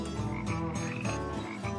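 A northern leopard frog croaks in a continuous, rhythmic series of low grating pulses, close and fairly loud, with no voices.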